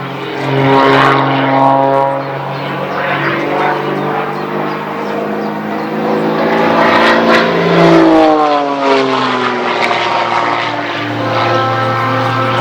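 A propeller airplane drones steadily overhead at an air show, its engine pitch rising and falling as it passes and banks, loud and continuous throughout.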